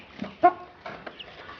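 A three-year-old barred rock hen makes a few soft, low clucks, close by and fairly quiet, with short gaps between them as she calls her chicks to food.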